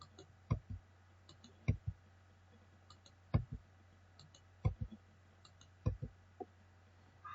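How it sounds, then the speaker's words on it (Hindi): Crisp computer mouse clicks and key presses, including the delete key on a keyboard, come in close, paired taps roughly every second or so against a low steady hum, with no talking. "तो क्लिक करने के बाद आपको डिलीट बटन प्रेस करना है कीबोर्ड से इस तरह से।"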